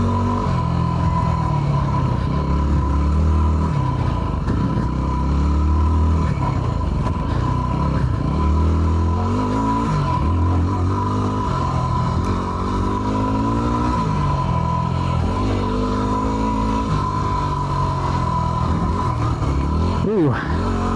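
Yamaha WR250R dual sport motorcycle ridden on MX trails, its engine droning steadily throughout with rising and falling revs, close and loud, with rider speech mixed in over the engine.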